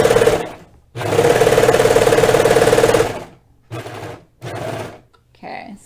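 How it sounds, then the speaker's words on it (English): A serger sewing machine stitches thick sweater knit in a long, steady, rapid run of loud mechanical chatter, followed by several shorter bursts with pauses between them. "it's a little thick for my machine here and most sergers"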